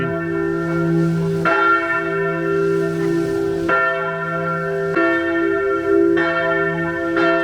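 Church bells ring out from a hilltop tower in a medieval Tuscan village, marking noon with steady, resonant strikes about every 1.2 seconds, their sustained tones overlapping loudly and alone.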